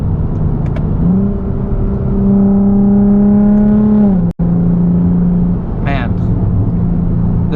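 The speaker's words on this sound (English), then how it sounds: "Downshifts sound amazing too." Lexus GS350 F Sport sedan engine in Sport Plus mode, heard from inside on a drive: a loud revving note climbs steadily, cuts off abruptly in a quick downshift, then picks back up at a steady drone.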